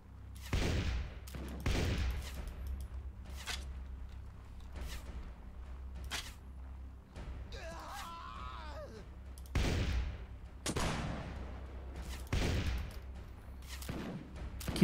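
Gunfire volleys ring out in a Mount and Blade: Warband battle with the Warsword Conquest mod. Separate sharp, loud cracks come every second or two, some doubled, with a quieter creaking, muffled stretch in the middle.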